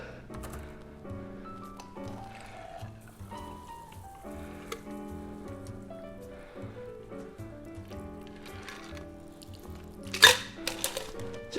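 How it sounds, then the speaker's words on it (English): A Gin Basil Smash is double strained into a glass of ice, a faint, soft trickle of liquid running under quiet background sounds. It ends in a brief, brighter clink and splash near the end. "Just double straining to remove all those little particles of the basil."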